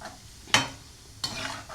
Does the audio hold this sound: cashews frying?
yes